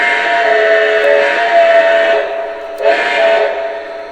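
A Lionel Legacy Union Pacific 4-12-2 #9000 model train's steam whistle, with a bright, harmonic tone, blows two long blasts, the first lasting about two seconds and the second shorter, close and fairly loud with no talking.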